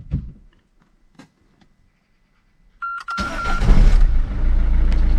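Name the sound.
Peugeot 207 1.6 HDi car engine starting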